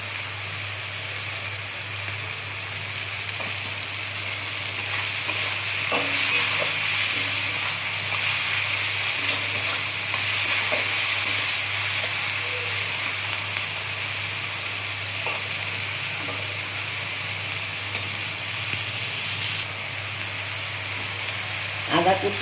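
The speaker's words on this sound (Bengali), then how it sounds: "পেঁয়াজটা ভাজা হোক, তারপরে টমেটো, কাঁচা লঙ্কা সব দেবো" Onions fry in a pan with a steady, close sizzle and hiss, broken by occasional stirring scrapes, no voices over it.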